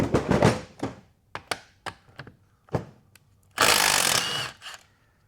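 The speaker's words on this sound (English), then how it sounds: "Now we're gonna take our center support bolt out." Removing the center support bolt from a TH400 transmission with a tool brings a series of sharp metallic knocks and clunks, then a short loud burst of an air or power tool, all close.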